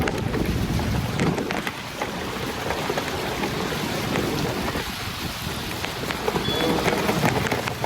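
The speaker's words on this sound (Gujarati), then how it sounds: "હવે જો બૂમ પડાવે એવો વરસાદ પડી જશે" Heavy monsoon rain in Kathwada pours down steadily, a dense, constant hiss of drops drumming on surfaces with a few louder gusts, and nobody speaking.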